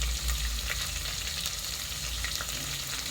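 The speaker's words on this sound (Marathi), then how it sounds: "त्यामध्ये आपण कांदा घालूया आणि कांदा पूर्ण आपल्याला परतून नाही घ्यायचा आहे, फक्त थोडासा मऊ करायचा आहे बस" Onion sautéing in oil with chilies, a dense continuous sizzle with faint stirring scrapes, close and fairly loud.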